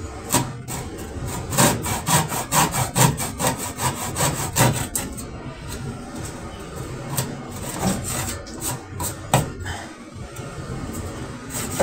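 Hand saw cutting through a gray board for a DIY ice fishing tip-up, with repeated back-and-forth rasping strokes in an uneven rhythm, close and fairly loud, pausing briefly midway before the sawing resumes.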